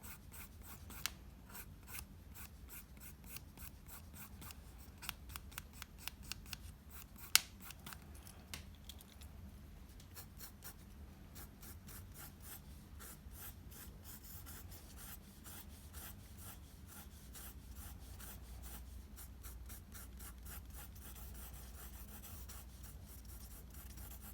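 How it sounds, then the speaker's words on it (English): A pencil makes long hatching strokes on paper while shading the hair of a drawn face, a faint, steady series of quick scratchy rubs repeating throughout, close and quiet with a few slightly louder taps early on. "So I'm using long hatching strokes with my pencil."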